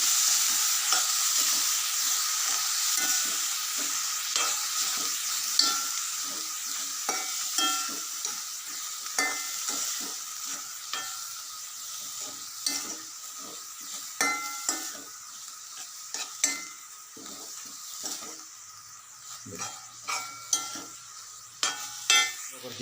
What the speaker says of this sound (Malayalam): ഇനി അതിനകത്തേക്ക് നമുക്ക് കുറച്ച് ചോറിട്ട് കൊടുക്കാം. ചോറിട്ട് കൊടുത്തിട്ടുണ്ട്. മൊത്തത്തിലൊന്ന് ഇളക്കി കൊടുക്കാം.